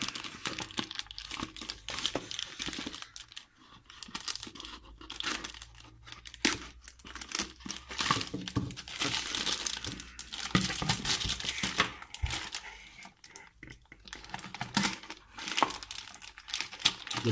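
Packaging on a Cho Z Triple Booster Beyblade set is torn and crinkled open up close, a steady run of crackling plastic and cardboard rips with occasional sharper snaps, no voices.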